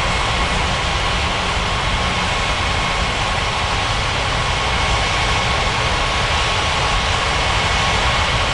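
Airliner in Unmatched Air Traffic Control, a video game, taking off from a city international airport: a steady, loud, broadband jet engine roar holds evenly throughout with no talk.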